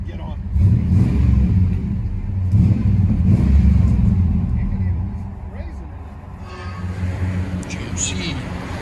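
A 1996 Chevy Silverado 1500 with a 5.7L V8 and Magnaflow true dual exhaust rumbles deep and close, its revs swelling and easing, while people talk over it.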